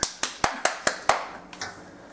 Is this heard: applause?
yes